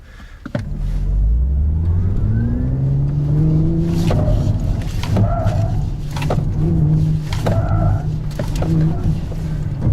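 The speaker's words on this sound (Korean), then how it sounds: "확실히 엑셀레이터 페달에 대한 출력 전개 굉장히 빠르고" A Hyundai Ioniq 6 N electric car accelerates hard in sport mode, its loud synthetic engine tone sweeping upward in repeated rising pulls broken by sharp simulated gear-shift clicks.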